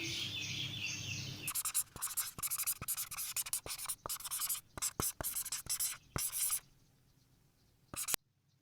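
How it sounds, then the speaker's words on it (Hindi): Pen or marker writing on a board or paper during a math lesson, heard as a run of short scratchy strokes with brief pauses, fairly close and moderately loud, with no speech over it. "तो फिर चलें ये बात लिख लेते हैं"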